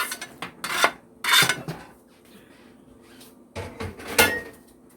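Rough scrubbing and rubbing on a kitchen stovetop comes in three bursts of wiping strokes with quiet gaps between, close by and moderately loud, with light clatter mixed in.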